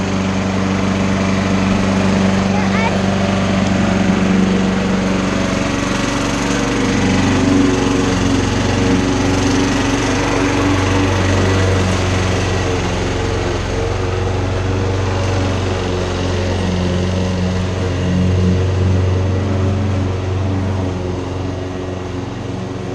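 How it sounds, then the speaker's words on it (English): A lawn mower engine on a cold start runs loud and close, a steady buzzing drone that holds for over twenty seconds with slight rises and dips in pitch. "Let's start the mower up."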